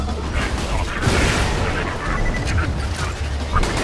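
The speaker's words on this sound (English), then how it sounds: "Everywhere I go is exploding loaders" Repeated explosions of loader robots in Borderlands 2, rumbling and booming amid dense game noise and gunfire throughout, with continuous loud combat clutter and no clear pauses.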